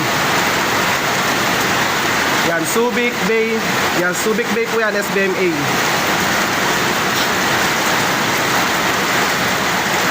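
Heavy monsoon rain pours near Subic Bay, a loud, dense, unbroken hiss filling the whole stretch while someone talks over it for a few seconds.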